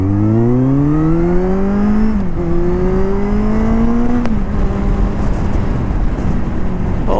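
Kawasaki Z800 motorcycle fitted with a LeoVince exhaust, ridden on the road: a loud, close engine note climbs steadily through the gears, with two brief dips at the shifts before pulling again, and road and wind noise continuing throughout.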